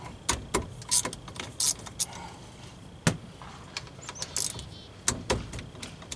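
Hand tools work caliper bolts on a Grand Am front wheel hub, with sharp metallic clicks, ratchet snaps and clanks arriving in irregular bursts, close and fairly loud against a quiet garage background.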